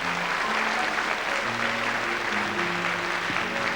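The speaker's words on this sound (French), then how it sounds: "sous les applaudissements du public" Studio audience applause on a French children's talent television show, welcoming a young girl singer and violinist to center stage; continuous dense clapping under a sustained musical tone, steady and fairly loud throughout.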